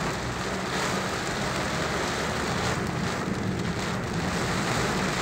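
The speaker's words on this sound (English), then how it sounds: "Here we are under a big rain again." Heavy rain pours steadily onto a street in South Jakarta near TB Simatupang, Cilandak, making a dense, loud, unbroken hiss with a deep rumble underneath and no voices.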